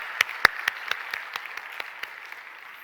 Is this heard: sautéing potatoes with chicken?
no